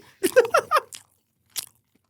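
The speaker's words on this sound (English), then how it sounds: "I want the famous Ange Eats chewing" Crunchy chewing of fried chicken, eaten close to the mic in Melbourne: a quick run of four or five loud crisp bites in the first second, then quiet and one last short crunch.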